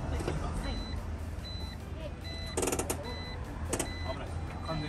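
A car gives regular, evenly spaced reversing warning beeps after being shifted into reverse, about six short tones heard under a noisy background with some rustling and a couple of brief clatters.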